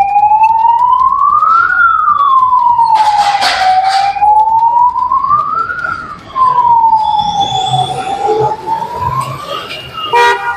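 A loud wailing ambulance siren rises and falls in slow sweeps close by at a highway toll plaza, with a brief honk and traffic noise mixed in.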